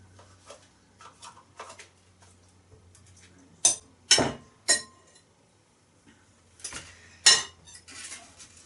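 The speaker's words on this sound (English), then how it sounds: "Better off using a spoon for this" A spoon scrapes and clinks against a bowl while mixing currant cake batter in a home kitchen, with light scraping and several sharp metallic knocks in bursts, close up and without talk.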